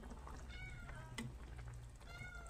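A cat meows a few times in drawn-out, whiny calls, fairly close, while fish curry cooks, with a low background hum and faint kitchen sizzle.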